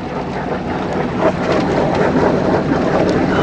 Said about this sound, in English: Engine's been holding up strong.